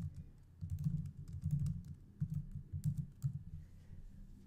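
Keys on a computer keyboard are tapped in quick, uneven bursts for a few seconds, soft and close, then the typing stops.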